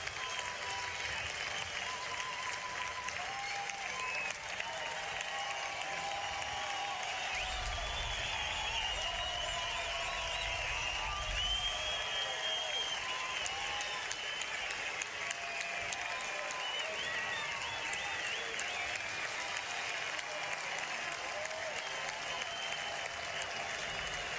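A huge race-weekend crowd of 82,000 at a WorldSBK round in Portugal applauds a rider, a steady, dense wash of clapping and cheering that carries on unbroken throughout at a distance.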